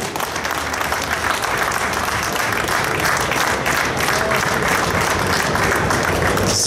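Sustained audience applause at a motorsport show in Luxembourg, steady and dense throughout with a crowd murmur mixed in, loud and fairly close.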